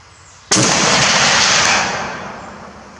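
A single loud, sharp report from a Steyr SSG 69 sniper rifle, fired nearby outdoors, bursting suddenly and then trailing off in a long rolling echo.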